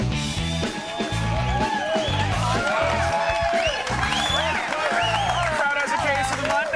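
Studio audience at the live taping of the TV show Attack of the Show, applauding and cheering loudly and steadily throughout under a busy music bed.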